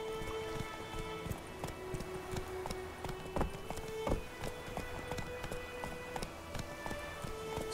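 Horse hooves clop at a steady trot on hard ground in The Witcher 3 video game, a rhythmic mid-level patter with a few sharper hoof strikes and faint ambient noise behind.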